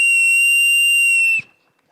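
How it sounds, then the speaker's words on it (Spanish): A referee's whistle gives one long, loud, steady blast to open a panel discussion on women, democracy and football refereeing, then cuts off abruptly into near silence. "Voy a dar silbatazo inicial a esta actividad para arrancar formalmente el partido."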